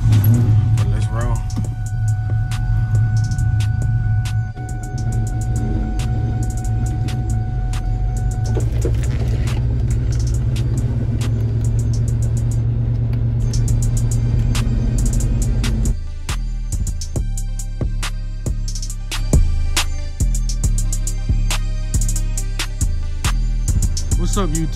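A 2004 Ford Mustang Mach 1 engine running, giving a loud, steady, low rumble throughout that shifts in tone partway through, with someone talking over it.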